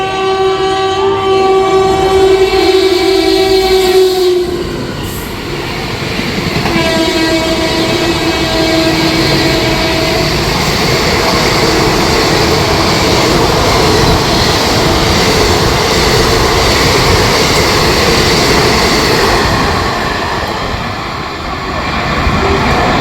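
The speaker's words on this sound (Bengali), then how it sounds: "আগরতলা গরিব রথ express with টাটানগরের WAP7 Kolkata two Agartala" Agartala Garib Rath Express hauled by a Tatanagar-based WAP7 electric locomotive running from Kolkata toward Agartala, a long loud horn blast opening, then a second horn and a steady roar of wheels and coaches passing close by.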